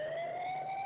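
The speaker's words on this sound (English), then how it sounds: "some Japanese Siren." Japanese-style electronic siren tone from a Photon 2 vehicle lighting setup in Garry's Mod, a steady sustained wail with a slowly rising pitch held loud and close throughout, no voices.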